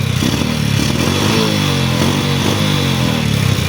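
A motorcycle with a bad engine sputters and putters unevenly at close range after being kick-started, running rough and loud with a steady low drone.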